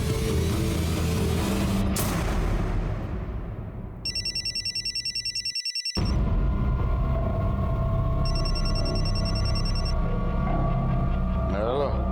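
A telephone rings late at night in a tense crime drama scene, two bursts of electronic trilling cutting over a steady background of music and ambient hum.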